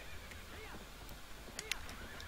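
Horse neighing in the video game Zelda Twilight Princess, a series of whinnying calls with bright sweeping tones over a steady game-audio background, with a few sharp clicks near the end.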